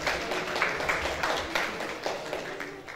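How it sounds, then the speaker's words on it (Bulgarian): An audience applauds award winners at a 2024 sports personality ceremony, steady crowd clapping sustained throughout at moderate volume, dense and even without distinct voices. "Аплодисменти за Кристиян Илиев и Русица Желева."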